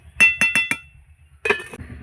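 A metal lid on a pot of soybean curry gives four quick clinks in a row, then after a pause a single louder clank as it settles, close and clear with no talking.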